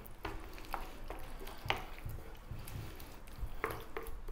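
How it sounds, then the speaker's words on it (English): Spoon stirring through a ground beef meat sauce with Parmesan mixed in, giving soft wet squishes and a few sharper scrapes at an irregular pace against a faint background sizzle, close by with no talking. "So give that a little mix in, off goes the heat."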